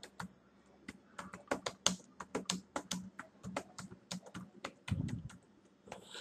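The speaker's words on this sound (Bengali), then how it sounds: "দেখুন আমি একটা লেখা লিখছি" Fingers typing a line of text on a computer keyboard, a close, irregular run of sharp clicking keystrokes in quick bursts with short pauses, one heavier thud near the end like the space bar, and no voice.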